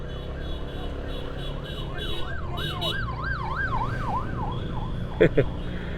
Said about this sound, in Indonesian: Dari tadi warawiri ambulan ya.